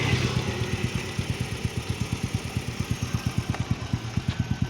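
A Suzuki Smash semi-automatic motorcycle engine idles close by, its carburetor being tuned, with a steady, even chugging of rapid exhaust pulses that holds throughout.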